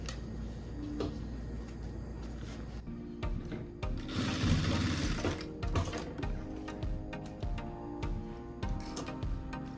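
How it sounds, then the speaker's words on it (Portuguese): A sewing machine runs a seam through main fabric and lining for a small handmade purse, with a louder burst of stitching in the middle amid rustling, handling noises and scattered ticks, close and moderately loud. "Vou puxar o tecido principal e o forro e vou rebater uma costura aqui."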